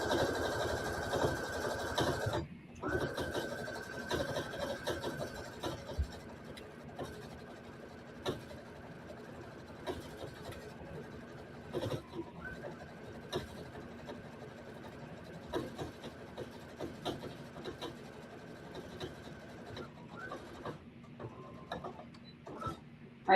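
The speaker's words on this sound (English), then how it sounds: "we're just going to sew around the top. And again, you can use zigzag stitch if you want" A sewing machine runs steadily while stitching around the top of a fleece neck cover, a faint, close mechanical whir with brief stops and restarts.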